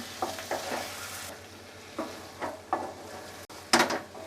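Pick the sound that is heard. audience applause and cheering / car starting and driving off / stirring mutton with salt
stirring mutton with salt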